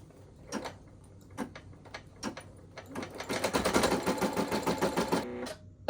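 An embroidery machine stitches a placement line for an in-the-hoop coaster, first a few separate clicks, then a steady rapid mechanical chatter of stitching that runs for about two seconds before stopping.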